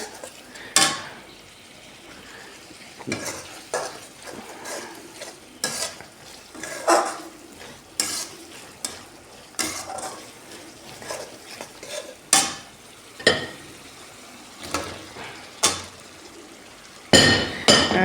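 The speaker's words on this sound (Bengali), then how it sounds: "মশলাটা কষাই নিতেছি ভালো করে" A spatula stirs and scrapes spice masala frying in a pan for a liver dish, giving sharp metallic clinks and scrapes at irregular intervals over a soft, continuous sizzle close by, with no talking.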